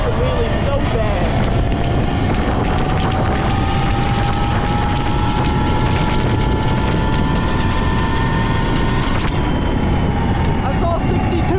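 A 72-volt, 10,000-watt electric Sur Ron mini moto at full throttle gives a rising, steady electric whine, loud and continuous, with heavy wind rush over the microphone.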